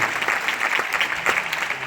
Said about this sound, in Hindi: तिवारी जी के लिए तालियां होनी चाहिए जोरदार।